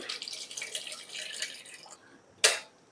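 Tamarind water, squeezed from tamarind soaked in water, is poured into a pot for a kappa curry, making a soft, faint trickle for a couple of seconds before ending with a brief splash.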